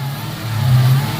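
A 2021 Dodge Charger Hellcat Widebody with a JLT cold air intake revs hard, a loud, close engine roar that swells and holds for a moment.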